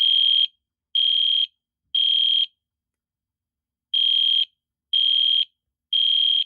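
An EST Edwards Genesis fire alarm horn sounds during a test, blaring loud, piercing half-second tones in two sets of three separated by a pause, with no voices.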